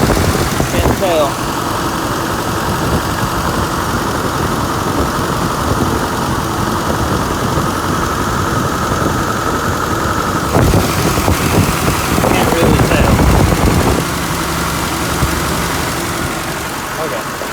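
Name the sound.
off-road rig engine idling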